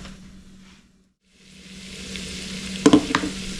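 Butter, olive oil and garlic heat in a pan on medium heat before shrimp go in, giving a soft steady sizzle that fades briefly, returns and grows, with a few sharp utensil clinks near the end.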